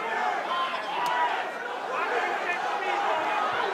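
A predominantly American crowd at a boxing fight roars in a steady, dense wash of cheering and chatter, with a voice speaking over it.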